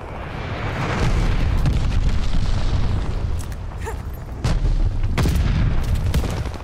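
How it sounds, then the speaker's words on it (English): Enemy glide bombs exploding in a war video game, with heavy rolling booms and sharp blasts, loud and sustained, swelling and fading over a continuous rumble of battle. "Enemy glide bomb incoming."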